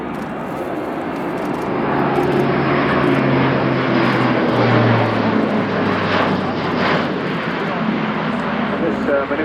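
Airbus A400M Atlas military transport making a very steep descent during an air show display, its turboprop engines giving a loud, continuous drone with a rising and falling pitch, while a commentator talks over it.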